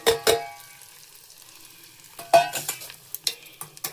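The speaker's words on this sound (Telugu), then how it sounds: "పోపు అయితే వేసేసాను." Curry leaves, red chillies and tempering seeds hit hot oil with two sharp crackling bursts, then a quieter spell of low sizzle before a fresh run of spattering pops and stirring clatter near the end, with no talking.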